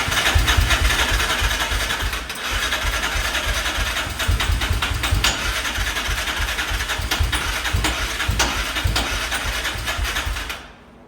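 A Yamaha Raptor 660R ATV engine runs steadily after cranking, a loud, close, rough low rumble that continues for about ten seconds before cutting off abruptly at the end.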